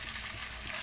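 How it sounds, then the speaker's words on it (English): Ginger garlic paste sizzles in a hot pan, a steady close hiss of frying with faint stirring, brief and fairly quiet. "Then just saute for a while, like just a few seconds will be enough."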